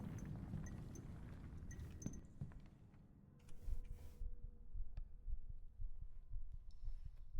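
A heartbeat throbs in a video game, low muffled thumps pulsing under a droning ambient hum with faint metallic clinks, fairly quiet and steady throughout.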